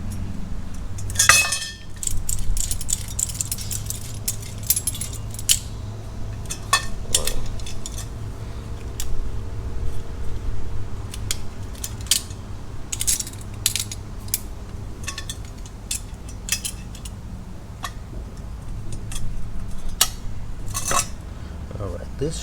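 A nut threaded onto a bolt while building a homemade tram gauge, giving scattered sharp metallic clinks and small ratcheting clicks over a low steady background hum, fairly close.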